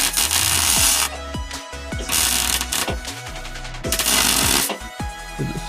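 A Hobart Ironman 230 welder stitches a broken kids' go-kart frame in bursts of harsh, loud buzzing and crackling arc noise, broken by short pauses and metallic knocks, close up.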